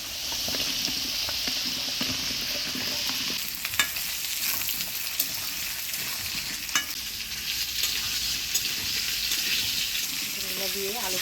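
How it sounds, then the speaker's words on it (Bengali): Potatoes and pointed gourd fry together in a pan for a paneer curry, giving a steady, close sizzle with scraping stir sounds and occasional clinks throughout. "এবারে পটলগুলা দিয়ে একসাথে ভেজে নেব"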